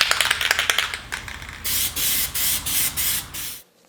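A spray can lays a wet second coat of PlastiDip onto car wheels. First come short rapid bursts of close hiss, then several longer sustained sprays separated by brief pauses, and it ends abruptly.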